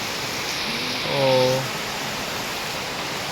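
Rain falls steadily outside under a roof, making a constant broadband hiss, while a person gives one brief exclamation partway through.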